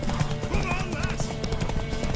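Horse hooves clip-clop over a busy, dense soundscape in The Witcher 3 video game, with a horse whinnying briefly amid background chatter and clatter.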